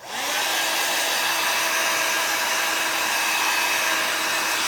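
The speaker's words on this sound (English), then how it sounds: "I do have to dry it with a heat gun" A steady, loud blowing roar of a heat gun drying a stamped card, running continuously, close by, with no voices.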